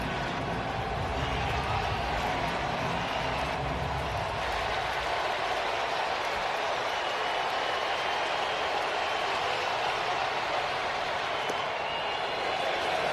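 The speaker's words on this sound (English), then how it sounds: "And this crowd rising to its feet now." A baseball stadium crowd at a Twins–Mariners game rising to its feet, a broad sustained roar of cheering and clapping that fills the space, with a commentator's voice over it.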